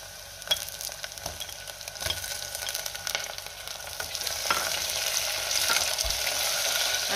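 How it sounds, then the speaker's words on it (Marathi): Tomato frying with onion, ginger-garlic paste and chopped coriander in a pan, a steady close sizzle with occasional stirring scrapes that grows a little louder toward the end. "टोमॅटो सुद्धा आपण 1 मिनिटभर चांगला परतून घेऊया"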